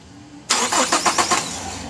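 A Toyota Innova engine cranks and catches abruptly, a short burst of rhythmic starter pulses settling into a steady idle, close and loud with no talking.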